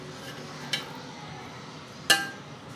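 A serving spoon clinks against a dish as minced meat and masoor lentil biryani is served out: two brief, faint metallic taps spaced over a second apart, with a low background hum.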